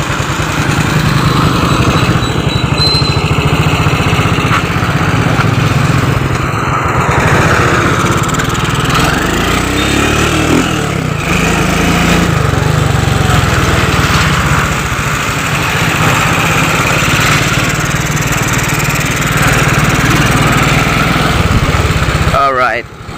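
A small motorcycle engine drones steadily throughout, loud and close, with a continuous buzzing hum while riding and faint background noise.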